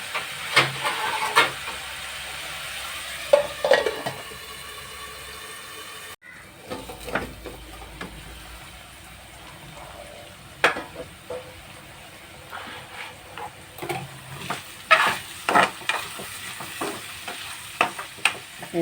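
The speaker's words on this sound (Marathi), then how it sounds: "आता आपण 5 मिनिटं वाफेवरती शिजवून घेऊया." Vegetables cook in a pan for a wild-greens bhaji, giving a continuous sizzle and steamy hiss with intermittent stirring clatter and scraping, close and fairly loud, with a brief break midway.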